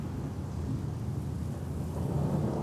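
Steady rain with low rolling thunder in the video game Promesa; a continuous wash of rainfall under a deep rumble that swells slightly toward the end, with no voices.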